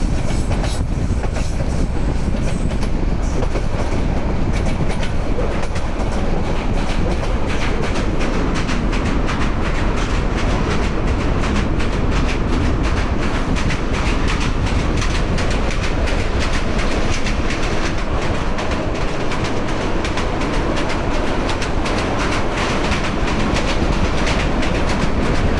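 A passenger train crosses the Ghorakhal rail bridge, heard from on board as a loud, unbroken roar with a rapid rattle and clatter of wheels on the track.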